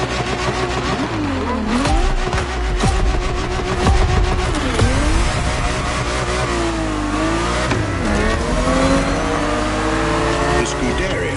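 A Ferrari race car drives on a racetrack, its engine loud and close as it revs hard, drops and climbs again through repeated gear changes and passes, with a voice speaking over parts of it.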